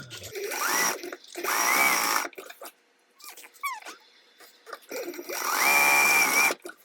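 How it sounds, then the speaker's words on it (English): A home sewing machine runs a 1/4 inch seam along both sides of fabric in quick mechanical bursts, close by, with short pauses and light handling clicks between runs. "stitch down both sides at 1/4 inch seam allowance as well"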